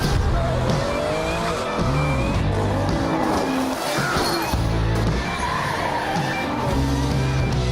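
A race car swerves in a motorsports game shown at an E3 2017 Ubisoft conference, its tires squealing in repeated loud screeches over a steady roaring engine, with brief pauses between slides.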